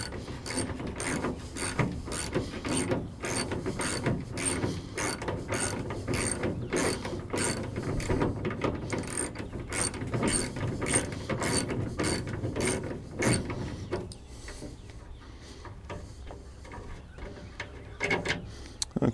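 A ratchet wrench with a 13mm socket turns loose bolts on a 2002 GMC Sierra tailgate latch, giving a long run of rapid, close clicking bursts that thin out near the end.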